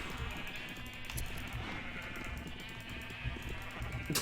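Sheep in the Minecraft video game bleat repeatedly while being sheared, their calls layered over a dense, busy backdrop of game noise at steady loudness.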